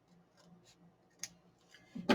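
Scissors trimming the bottom piece off a paper CD envelope, with one quiet crisp snip midway and a louder close cut at the end against soft background.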